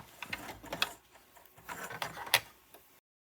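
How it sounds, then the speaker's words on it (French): A sewing machine makes a few short, close mechanical bursts of whirring and clicking while stitching back over the starting stitches of a fabric witch hat. It stops abruptly just before three seconds. "on va tout simplement coudre quelques points par-dessus les points du début"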